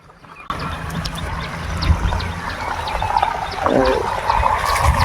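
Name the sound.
water flowing into farm field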